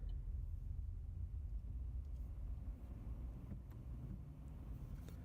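Cars pass through One Ash Roundabout in Leicester, a steady, close low engine and tyre rumble that holds at an even level for about five seconds with no voices.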